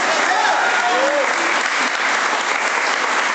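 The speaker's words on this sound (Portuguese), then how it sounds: "Aplauda Jesus por isso" A Catholic congregation applauds during a sermon with loud, close, continuous clapping that forms a dense, even roar, and some voices are audible beneath it.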